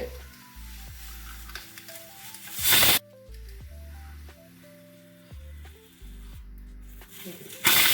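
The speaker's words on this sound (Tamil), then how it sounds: "முட்டையை இந்த மாதிரி உடச்சி இப்படி கரண்டியில் ஊற்றிட்டு" Raw egg cracked and poured from a ladle into boiling egg gravy, giving soft sizzling and bubbling bursts between quieter stretches, all under a steady musical tone with no talk.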